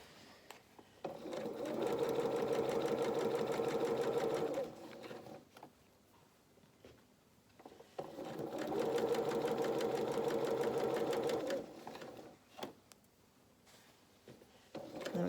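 A domestic sewing machine runs a 2.2 construction stitch along a seam in two long bursts of steady, fast whirring, each a few seconds long, separated by quiet pauses with small handling clicks.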